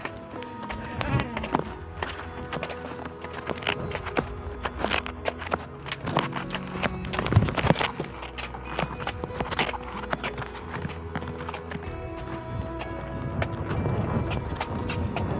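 Mares' hooves clip-clop along a trail near Girnar in Junagadh, a busy, irregular patter of steps under steady outdoor background noise, with some faint voices mixed in.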